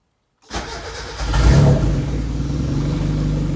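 A turbocharged 1990-93 Mazda Miata engine running Speeduino fuel injection cranks and catches, revving briefly before settling into a steady, close idle rumble.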